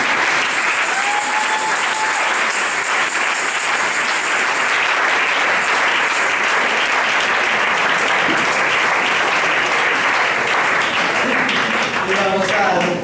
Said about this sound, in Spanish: Entonces vamos a darle un fuerte aplauso a Dios.